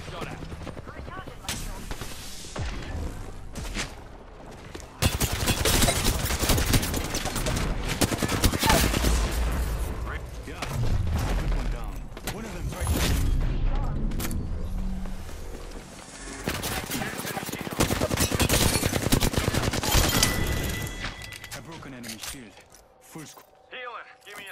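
Sustained automatic gunfire in a video game shootout, long loud volleys broken by short lulls, with character voices calling out over the shooting.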